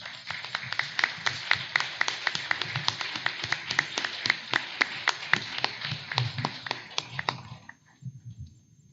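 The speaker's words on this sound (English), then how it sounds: "Can we give Alex Whitener a round of applause?" Steady round of hand clapping from a small audience at a county board of education meeting honoring the runner-up teacher of the year, sharp claps running for about seven seconds then stopping, with faint room sounds after.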